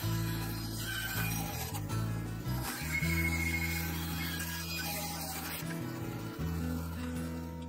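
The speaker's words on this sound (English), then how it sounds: "I only needed to make one main cut and a bit of trimming" Bandsaw cutting through a yew wood blank, a steady loud rasping drone with a low motor hum, running continuously throughout with slight shifts in pitch as the blade works the timber.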